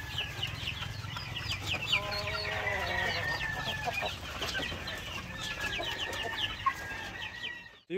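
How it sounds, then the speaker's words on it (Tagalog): Chicks of a layer chicken breed cheep steadily inside a coop, a dense, continuous chorus of high peeping with occasional clucks, close and fairly loud throughout. "So yan yung mga sisiw natin."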